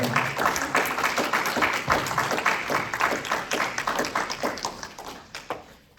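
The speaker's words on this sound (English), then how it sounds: "Well, let's give a round of applause to Deanna and Lisa." Applause from the audience at a literary reading event, a steady burst of clapping from many hands that carries on for several seconds, then thins and fades out near the end.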